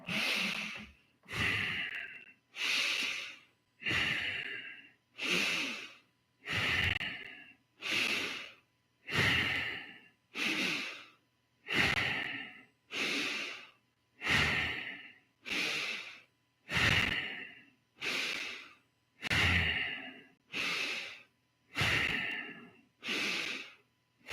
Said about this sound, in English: Together, let's go ahead and begin 30 rounds of bow breathing, starting now.